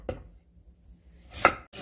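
Radish being cut with a knife for dongchimi, two separate crisp chops onto a cutting board with a quiet pause between them, close and clear.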